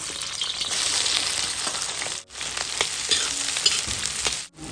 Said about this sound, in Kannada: ಸ್ವಲ್ಪ ಉಪ್ಪು ಹಾಕಿ ಆನಿಯನ್ ಫ್ರೈ ಮಾಡುವಾಗ